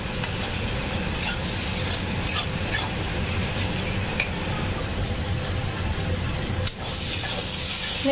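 Fish curry masala with tomato and salt being sautéed in a pan for a Bengali bhagan fish kosa, a continuous soft sizzle with scraping stirs throughout, close and even, one sharper clink near the end.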